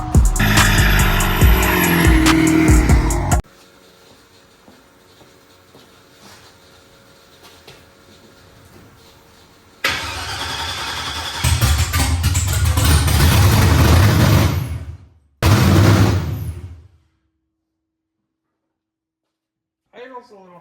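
A Chevelle with a 4.8 LS engine runs loud at first, drops to a quieter idle hum, then roars again in a long loud burst before cutting off to near silence.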